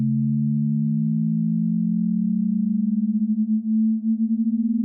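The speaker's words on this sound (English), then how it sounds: "this tone is going to continuously increase in frequency" A pure sine test tone glides steadily upward in pitch, starting low and rising slowly, joined by a second tone that beats against it, producing a pulsing wobble as the two converge; steady, alone, no voices.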